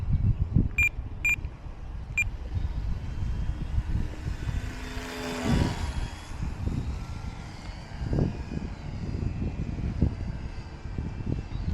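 A Durafly Night Tundra RC airplane flies overhead in wind, its electric propeller a faint, shifting drone over steady wind noise, with a few short electronic beeps near the start.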